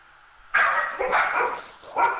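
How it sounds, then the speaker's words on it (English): Several dogs bark sharply from about half a second in, overlapping in a loud, sustained burst of yaps and woofs heard alone, with a fresh bark near the end. "Like, they just came out of nowhere with the barking."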